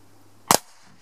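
A single sharp crack from an Umarex HDP 50 / HDR 50 airgun, loud and close, followed by a short decay in otherwise quiet surroundings.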